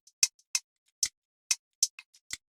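Short, tight percussive hits from an afro swing style percussion loop, tightened with a transient shaper, in a sparse pattern, each crisp and quickly damped, with a few soft ticks between; no voices.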